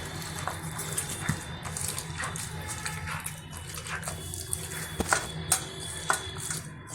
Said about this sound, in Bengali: টমেটো আর বেগুনটা ভালোভাবে হাত দিয়ে একটু ম্যাশ করে নেব।